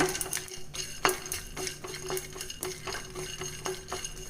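A spoon scrapes and stirs spices and peanuts in a pan with irregular clinks and knocks over a soft, continuous sizzle of frying.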